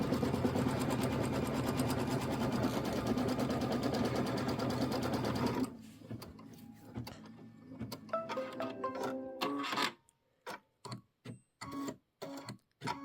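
A sewing machine quilts fabric for a Kimberbell Christmas wall-hanging block, running in a steady, dense whir for several seconds before breaking into short stop-start bursts with brief silences between them.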